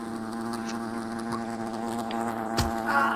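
Wasps buzzing in the video game Fable, a steady droning hum with layered tones that continues throughout, broken by a brief sharp click or hit near the end.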